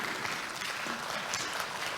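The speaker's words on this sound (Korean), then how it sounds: "박수 쳐주십시오" A conference audience claps steadily during an opening ceremony, a short burst of dense, even applause from a seated crowd.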